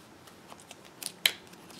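Scissors snip through a sticker in a few quick, light cuts, ending with one sharper crisp snip, heard close up in a quiet room.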